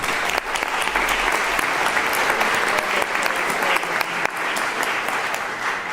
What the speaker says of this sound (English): Hey, applaud.